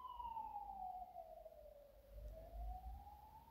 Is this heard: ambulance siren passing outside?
yes